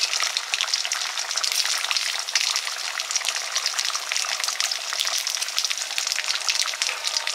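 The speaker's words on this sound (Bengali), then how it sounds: "এবারে দিচ্ছি ভেজে রাখা শোল মাছ" Fried snakehead fish pieces go into a curry simmering in a pan, giving a steady, dense sizzle and bubbling hiss that holds evenly throughout with no talking.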